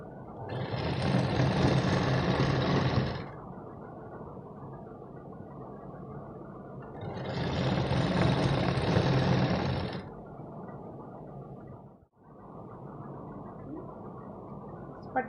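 Domestic sewing machine stitching a folded strip onto a large-size katori-style blouse, in two steady whirring bursts of about three seconds each, with quieter handling gaps between, close and fairly loud.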